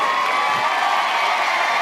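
A dense crowd at a beach volleyball match in the Atlanta Slam roars continuously, with loud sustained cheering and whoops filling the whole moment without a break.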